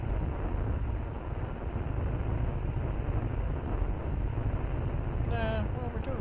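Rocket engine burning in the game Kerbal Space Program: a steady, low, rumbling roar that holds at an even loudness, with a brief tonal sweep near the end.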